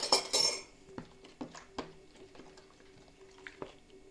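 A spoon clinks and scrapes against a bowl of pizza dough in a few sharp knocks, then softer scattered taps and wet stirring sounds, close and fairly quiet.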